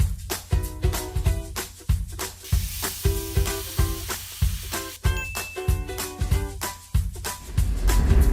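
Tilapia fish frying in hot cooking oil, a loud close sizzle broken by repeated rhythmic scraping and clinking strokes of a utensil against the pan, with no talking.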